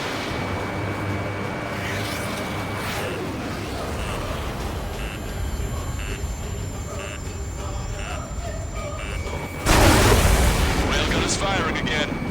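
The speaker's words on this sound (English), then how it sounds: "Railgun is firing again" A railgun fires in the air-combat game Ace Combat 7, a heavy broadband blast near the end that rises over a steady roar of jet and wind noise.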